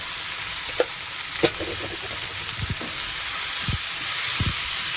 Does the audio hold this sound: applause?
no